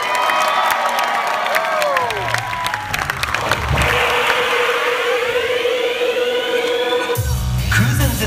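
Loud cheering and applause from a large crowd greeting a dance unit on stage at YouTube FanFest Tokyo 2014, dense clapping mixed with shouts and rising whoops, with booming music and electronic stage effects.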